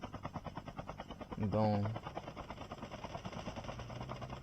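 A helicopter in the Call of Duty Mobile battle royale mode drones with a low, steady rotor hum throughout, sitting under a player's close, continuous talking.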